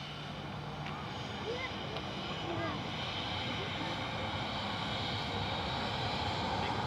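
A KLM airliner passes at Manchester Airport, its engines a steady, broad roar that holds level and swells slightly toward the end, with voices talking faintly underneath.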